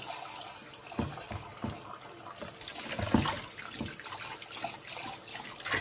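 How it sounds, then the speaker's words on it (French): Cold water runs from a tap in a steady, fairly quiet splashing stream with small irregular gurgles and spatters. "Je mets un peu d'eau froide parce que sinon, je suis en train de me brûler les mains."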